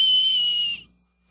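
A single shrill whistle blast, loud and steady for under a second, then fading out, followed by a faint brief chirp.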